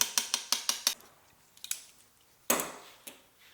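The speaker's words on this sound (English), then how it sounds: "So give it a good stir." A spoon clinking against a pot while charro beans with tomato are stirred, a quick run of bright metallic taps, then a few scattered clinks and one heavier scrape, close and clear, with no voices.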